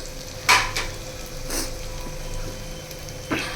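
Soft sizzling from mutton frying in a pan, with a few clinks of a spatula against the pan, close and moderately quiet with no voices.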